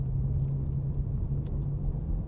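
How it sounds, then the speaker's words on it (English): A Maserati Gransport MC Victory pulls away in second gear, its engine giving a steady low drone with a constant mid-pitched hum, close and even in level throughout. "I'm going to pull away in second, as it's been suggested that the car will happily do that"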